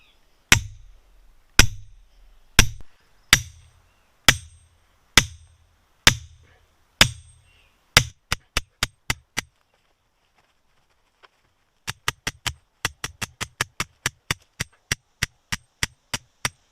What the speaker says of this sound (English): So you guys saw that I was driving into the sand and it was going in.